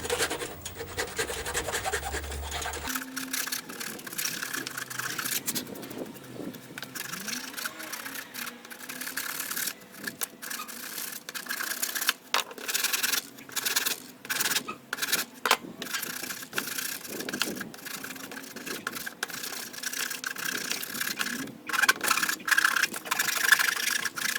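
A hand file rasps against wood while a guitar neck rest is being shaped, giving repeated irregular scraping strokes, close but fairly quiet, with pauses between bursts.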